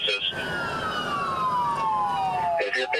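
Police car siren wailing loudly and continuously, a long descending tone that slides steadily lower across the whole stretch, with traffic noise underneath and a brief burst of other sound at the end.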